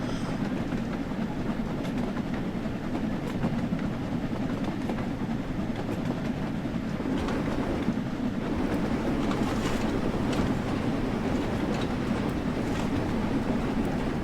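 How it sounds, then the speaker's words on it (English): An LMS Jubilee steam train gets under way, a continuous loud rumble of engine and wheels with faint rhythmic rail clatter running throughout, heard up close with no talk. "All I know is that they're steam trains and that they move."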